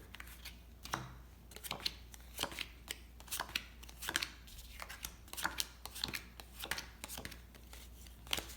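Soft riffling and flicking of playing cards being shuffled, in quick repeated bursts with short pauses, fairly quiet and close.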